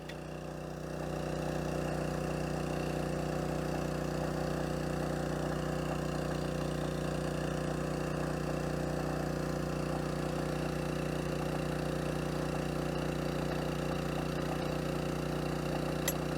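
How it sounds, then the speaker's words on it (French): A maple syrup pump runs at maximum speed, a steady, even mechanical drone with a constant low hum and tonal whine that holds unchanged and moderately loud throughout. "Ça, c'est quand la pompe est à vitesse maximum."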